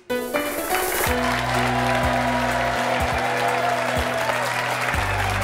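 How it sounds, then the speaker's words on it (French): Studio audience applauding loudly, a continuous dense burst of clapping that runs the whole stretch over a low sustained music bed, with no voices on top. "On applaudit très fort Marie-France"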